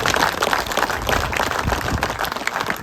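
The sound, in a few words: audience applause for Pravesh Verma at a village gathering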